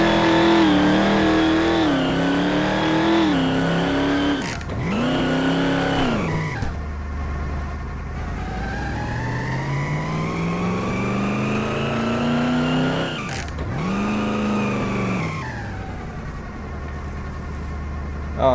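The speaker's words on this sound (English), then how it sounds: "There's the first gen Hellcat right there. I'm gonna do one more pass back and forth" A first-generation Hellcat car in Garry's Mod revs and drives past back and forth, its engine note climbing and falling loudly with sweeping pass-by pitch shifts and brief deep drops between passes.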